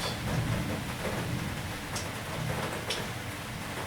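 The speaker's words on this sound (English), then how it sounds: "There is nothing that can be compared to the rain outside" Rain falling outside, a steady, dense hiss of drops on surfaces with a couple of brief brighter spatters, continuous and fairly close, with no voices.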